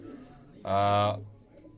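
A pigeon coos on a rooftop in Quetta, a single loud, close coo lasting about half a second amid quiet surroundings.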